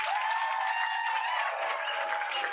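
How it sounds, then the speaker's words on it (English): An audience applauds students at a school winter showcase, a dense, continuous patter of many hands clapping at a moderate distance, steady throughout with no talk. "I'm going to ask for 2 rounds of applause"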